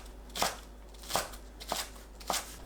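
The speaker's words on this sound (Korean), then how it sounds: "파를 작게 썰어주세요." A knife chops green onion into small pieces on a board, four crisp, evenly spaced cuts at a steady, unhurried pace, quiet and close.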